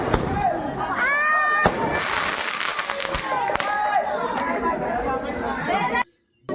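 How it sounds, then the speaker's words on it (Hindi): Fireworks explode at a Bhim Jayanti celebration for Ambedkar's birth anniversary, with repeated crackling bursts and sharp pops scattered through a dense crowd murmur and nearby chatter, then a brief silence at the end. "क्या आकर्षक आतिशबाजी है।"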